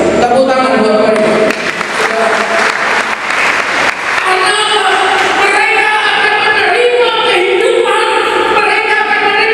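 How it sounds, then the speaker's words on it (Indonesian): Loud crowd applause at a church worship service, sustained clapping from a congregation mixed with a voice and musical tones over it. "Tepuk tangan buat mereka"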